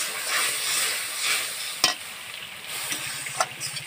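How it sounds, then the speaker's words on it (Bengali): Chilli powder and turmeric paste with a splash of water sautéing for a crab curry, a steady close sizzle with occasional stirring scrapes and taps, no talking. "মশলাটা ভালোভাবে কষিয়ে নেব।"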